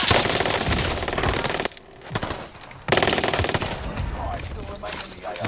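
Rapid machine-gun fire from Call of Duty Warzone on the Rebirth map, loud sustained bursts broken by a brief lull before firing resumes, with a player's voice faintly underneath.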